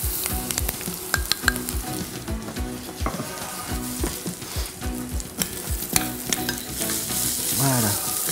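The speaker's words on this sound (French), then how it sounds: "Et je verse mon riz." Rice poured into hot oil with shallots in a pan, a close, loud sizzle with frequent scraping and stirring clatter running throughout.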